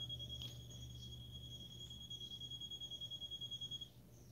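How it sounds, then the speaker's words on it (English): A high electronic alarm tone in a pet store sounds steadily, then pulses rapidly before cutting off, somewhat distant over a low background hum. "That's the alarm, if you guys heard that."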